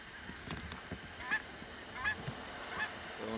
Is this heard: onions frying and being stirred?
no